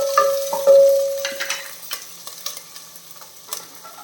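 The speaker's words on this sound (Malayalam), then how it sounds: "എല്ലാം കൂടെ ഒന്ന് ഇളക്കി കൊടുക്കാം." Garlic and green chillies fry in a pan while a spoon stirs them, giving a run of close, irregular scrapes and clinks over a light sizzle, with no talking.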